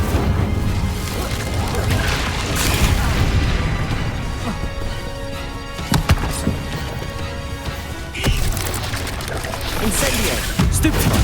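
Spells crashing and exploding during a duel in Hogwarts Legacy, including the Incendio fire spell, with repeated bursts, thuds and booms over a dense, busy game soundscape, while a voice talks throughout.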